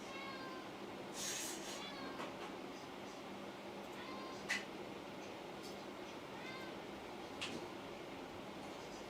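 A fluffy house cat meows indoors, giving about three short, soft calls spaced a few seconds apart over a steady low background hum.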